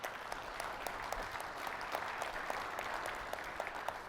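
Audience applause at a union convention address on Canada's building trades, a steady, dense wash of many hands clapping at a distance, sustained evenly for about four seconds with no voices over it.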